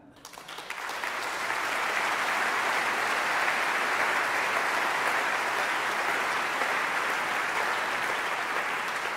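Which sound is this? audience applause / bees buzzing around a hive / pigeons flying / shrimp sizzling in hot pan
audience applause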